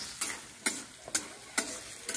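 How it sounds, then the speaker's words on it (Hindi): Potato pieces frying in a pan for sabudana khichdi, a soft steady sizzle broken by five sharp, evenly spaced scrapes of a spatula stirring them, close and clear with no talking. "इसी तरह 2-3 मिनट और आलू को भून लेंगे अच्छे से।"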